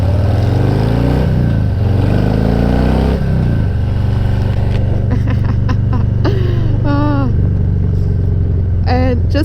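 A Harley-Davidson Heritage Classic motorcycle with a 114 Milwaukee engine accelerates in a loud, continuous low rumble that climbs in pitch through gear changes, with someone talking over it.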